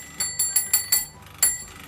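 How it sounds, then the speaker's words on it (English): A homemade electric bell gong driven by a solenoid striker rings in a rapid, slightly uneven series of about six bright metallic dings, close and loud, with short decays between strikes. "That's what makes this gong to sound like this."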